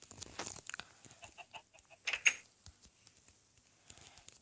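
Chickens on a Minecraft farm give short clucks in quick clusters, fairly quiet and close, mixed with small clicking game sounds and no talking.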